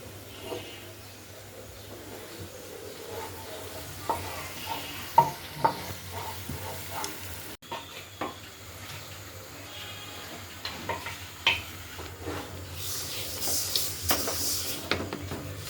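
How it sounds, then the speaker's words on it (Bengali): Masoor dal with shrimp fries in a pan, giving a low steady sizzle broken by scattered clicks and scrapes of stirring, fairly quiet, with a brief bright hiss toward the end and no talking. "এখানে মাছকালার ডাল ভাজা হচ্ছে"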